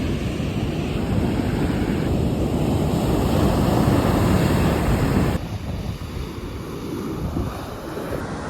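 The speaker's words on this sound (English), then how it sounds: "This is what I mean when I say these waves are literally insane." Ocean waves crash onto a beach in Nicaragua, a loud, continuous roar of surf mixed with heavy wind buffeting the microphone, easing slightly partway through.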